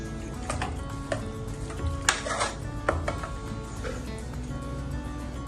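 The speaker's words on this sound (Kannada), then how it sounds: "ಇವಾಗ ನೆಕ್ಸ್ಟ್ ಇದಕ್ಕೆ ಸ್ವಲ್ಪ ಸಕ್ಕರೆ ಆ್ಯಡ್ ಮಾಡ್ಕೊಳ್ಳೋಣ" Sugar goes into a pot of rice kheer (akki payasa) in a home kitchen, with soft scraping, light clinks of a spoon against the pot and a faint steady hiss underneath.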